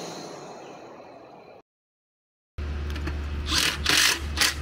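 A vacuum pump runs on a Lennox AC condenser system during a coil install, giving a close, steady mechanical drone with a low hum. It cuts out briefly to silence, then resumes with rising, whirring surges.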